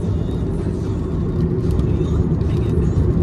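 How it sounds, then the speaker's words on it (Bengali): A car cruising along the Kalyani Expressway near Kolkata on a rainy, overcast day produces a loud, steady low road rumble and engine hum from inside the cabin, with no break in the sound. "মানে এই সুন্দর একটা ওয়েদারে গাড়ি চালাচ্ছি"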